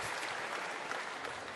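Audience applause for Nigel Farage at the Bitcoin Amsterdam conference, a steady wash of fairly faint, distant clapping from a large crowd.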